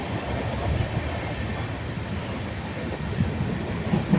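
Railway noise at Guwahati station in the early morning: a continuous low rumble of a train with faint rolling clatter, fairly distant and steady, with a few louder knocks toward the end.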